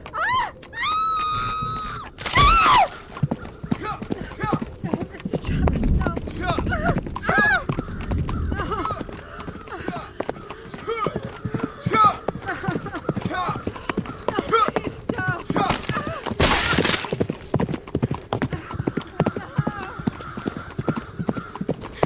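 Horses pull a cart with rapid, continuous clip-clopping hooves, mixed with whinnies, loud thuds and bursts of noise, while people talk over it.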